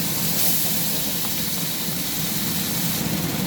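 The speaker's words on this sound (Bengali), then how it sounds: "এবার এই তেলের মধ্যে আমি পেঁয়াজ বাটা, আদা বাটা, রসুন বাটা দিয়ে দেবো, বড় চামচের।" Onion, ginger and garlic paste sizzles in hot oil in a home kitchen while fish curry is cooked, a steady loud hiss and crackle that runs unbroken through the whole stretch with no talk over it.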